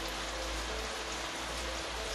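Steady, loud rain drums on a roof in a natural setting, a dense continuous patter filling the short stretch with no voices.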